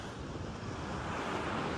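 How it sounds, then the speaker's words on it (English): Ocean waves wash back out on Coronado beach, a broad roaring rush of surf mixed with wind noise on the microphone, steady and loud for the whole stretch with no talk. "Water getting dragged back out."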